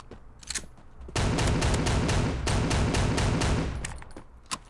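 Desert Eagle fire in the video game Bullet Force: a dense, loud run of sharp shots in quick succession, with a couple of separate shots before and after.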